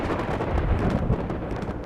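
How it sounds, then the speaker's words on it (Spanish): A violent thunderstorm breaks over a flooded pit, with a dense, continuous low rumble and a broad roar of rain or wind that holds steady and loud throughout, with no voices. "Una violenta tormenta se desató e inundó el hoyo"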